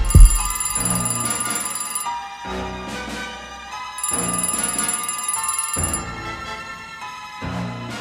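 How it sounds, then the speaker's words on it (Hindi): A telephone rings loudly in two long bursts of electronic trilling separated by a pause, close and clear, with no talking. "तभी उसका फोन फिर से बजा।"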